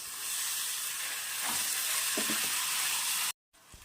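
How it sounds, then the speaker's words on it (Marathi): Fresh green peas sizzling as they fry in oil for a homestyle Maharashtrian pea curry, a steady loud crackling hiss with a few soft stirring knocks, cut off abruptly near the end. "आणि असं छान असं तेलामध्ये परतून घ्यायचं आहे"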